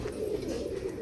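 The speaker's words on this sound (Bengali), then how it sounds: "এই যে এই দুটো কিন্তু পুরো এক জোড়া পায়রা" A pair of pigeons, one male and one female, coo steadily and close by, their low throaty calls rolling on without a break.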